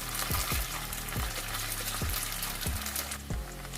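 Chicken frying in a pan gives a steady close sizzle, broken by several sharp scraping stirs at regular intervals, with no voices.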